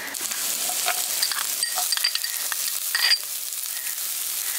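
Chopped vegetables, including capsicum, sizzle loudly in a pan with ginger garlic paste, a dense continuous frying hiss with a few light stirring clinks, close up and with no voices.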